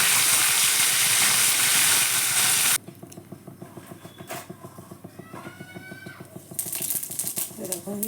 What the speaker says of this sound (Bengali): এখন অনেকগুলোই মাছ ভাজতে আছে, সেগুলো এখন ভাজবো